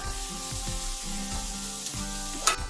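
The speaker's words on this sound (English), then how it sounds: "we're really just going to do a quick stir fry of it for 3 minutes" Red peppers, onions and zucchini sizzle in a teaspoon of oil in a close, steady hiss, with faint scrapes and stirring sounds and no voices.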